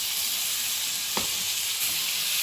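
Washed rice frying with browned onions in a pot, a loud, continuous close sizzle and hiss with one brief clack of a spoon midway and no talking.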